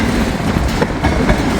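A train passes close by and loud in Hamilton, Ohio, on a windy day, giving a continuous rumble with rhythmic wheel clatter from the cars.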